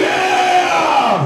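A crowd of men at a metal concert anniversary show lets out one loud, sustained roar, bellowing together without a break.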